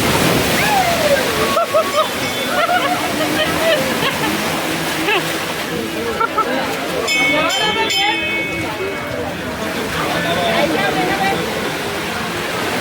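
Sea water surges and splashes over shoreline rocks at the Gangeshwar Mahadev shrine in Diu, where five shivlings sit by the sea. Rushing waves wash in and out close by, with clinks and splatters, under almost constant excited talk.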